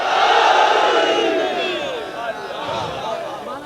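A crowd at a religious gathering in Karachi shouts the slogan Nara-e-Haidri together, a loud, echoing mass chant that swells at the start and then fades into a rumbling, reverberant roar.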